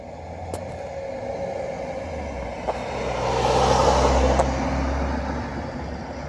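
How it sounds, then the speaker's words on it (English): Cars passing on a road beside a garden, a steady broadband traffic rush swelling as a vehicle draws near around the middle and then easing, heard alone without talk. "So many cars."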